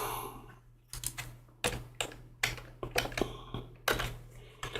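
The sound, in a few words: typing commands on a computer keyboard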